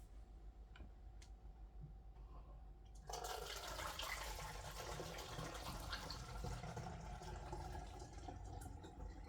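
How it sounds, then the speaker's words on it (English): Water pours into a quart measuring container until full. After about three seconds a steady rushing, splashing stream begins and continues close by without pause to the end. "we're going to pour this in until it is full"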